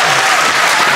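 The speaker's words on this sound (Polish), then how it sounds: "Oczywiście proszę was o gromkie brawa." A large festival audience gives loud, dense applause welcoming Janina Paradowska at the Akademia Sztuk Przepięknych, Woodstock 2012, a steady wall of clapping that fills the whole moment.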